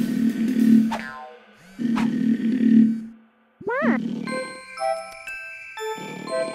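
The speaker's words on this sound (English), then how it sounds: "Oh, it's just sleepy birds snoring." Sleepy cartoon birds snore in a children's animated show: two long, low, rumbling snores with breathy pauses, followed by a springy boing and bright chiming, tinkling tones.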